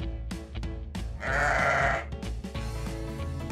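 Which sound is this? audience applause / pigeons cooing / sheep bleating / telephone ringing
sheep bleating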